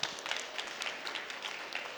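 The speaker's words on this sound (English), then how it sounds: "So big round of applause for them." Brief, faint applause from an audience at a press briefing on the Ghaf tree, a soft patter of scattered hand claps heard from a distance.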